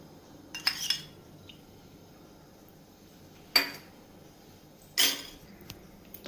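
A spoon clinks against a pan on a stove while ghee is added, giving three sharp metallic taps spaced a couple of seconds apart, close and fairly quiet, with no talking.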